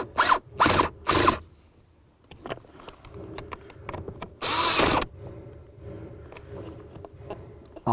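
A power tool tightens the mounting bolts of a blower motor resistor on a 2005-2015 Toyota Tacoma in short, loud whirring bursts separated by pauses with faint handling noise, close up.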